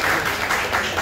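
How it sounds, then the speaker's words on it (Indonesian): An audience at a regional DPRD Banten public outreach meeting applauds on request, a dense continuous patter of clapping filling the moment evenly. "Tepuk tangan lagi dong."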